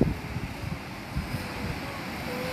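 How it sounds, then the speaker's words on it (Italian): Steady roar of strong seaside wind buffeting the microphone, loud and continuous for a few seconds, with no clear speech, at Polignano a Mare. "Qui c'è tantissimo vento"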